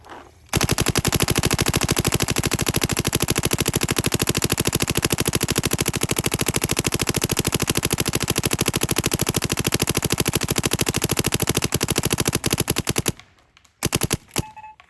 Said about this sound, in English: I've got the Luxe Idol turned to 15 balls a second to make it a little spicy for you guys, and we're shooting about 280 feet per second